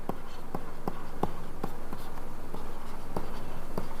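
Chalk or marker tapping and scratching on a board during a reasoning lesson on the English alphabet, a steady series of short close strokes at an even pace over faint room hum.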